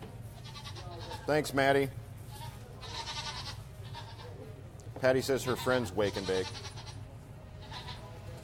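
Goats bleat loudly in two bursts of wavering, quavering cries on a live local broadcast, heard alongside someone talking over a low background hum.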